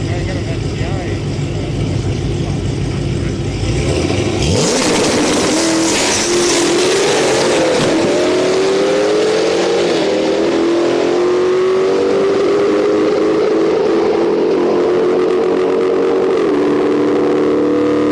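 A Roush Mustang and a Subaru STI drag race on a street night at Orlando Speed World. Loud engines idle and rumble, then roar off the line with rising pitch as they accelerate away, with voices underneath.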